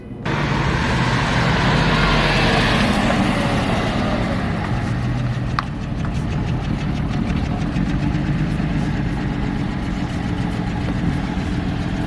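Ford Mustang V6 engine idling at a steady, close rumble throughout, loud and continuous with a faint knocking texture and no voices.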